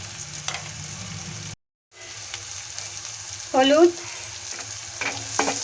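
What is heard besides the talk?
onions frying in a pan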